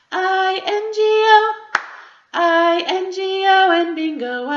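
Children's sing-along of the Bingo song with a few sharp hand claps landing between sung phrases, the claps brief and mostly covered by the loud, steady singing voices.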